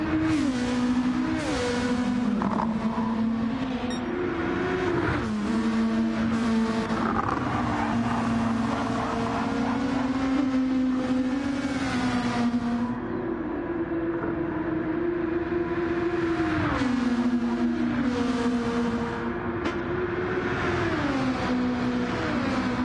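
A race car engine holds a steady, loud drone through a lap of a Gen-X series race, its pitch rising and dipping with gear changes and throttle.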